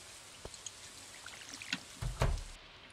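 Watering can pouring onto a door in the farming game Stardew Valley, a short trickling splash of water that swells near the end, preceded by faint game blips.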